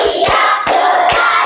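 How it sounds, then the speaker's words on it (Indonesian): Standing students in a classroom do a rhythmic concentration clap together. Three sharp, loud group claps land in an even beat, close by. "Kita tepuk konsentrasi dulu."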